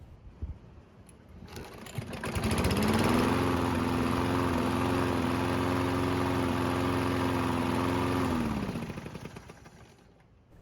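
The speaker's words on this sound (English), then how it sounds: "There's also a slight miss while the engine is running" A Toro lawn mower engine with a slight miss starts after a pull, revs up to a steady, loud running drone and then winds down to a stop.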